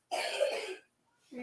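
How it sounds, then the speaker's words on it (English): A woman coughs in a loud burst of several rapid coughs lasting about 0.7 seconds, followed by a pause, and then a short murmur as someone starts to speak. "She been coughing like that?"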